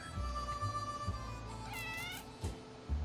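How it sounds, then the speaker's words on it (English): An angry house cat meows in the video game 60 Seconds! Reatomized, moderately loud over a game music bed with a brief whistling tone partway through. "turned out to be just an angry house cat"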